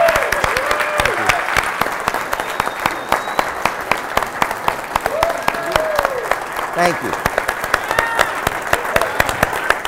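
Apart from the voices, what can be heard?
convention panel audience applause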